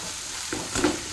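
Mashed boiled potato goes into a pan of frying banana flower: a steady oily sizzle with a brief scrape and soft thump as the potato lands and is stirred, close and alone.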